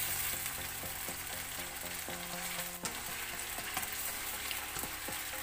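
Meat sizzles steadily in a hot pan, with light clicks and scraping from stirring now and then. No one speaks.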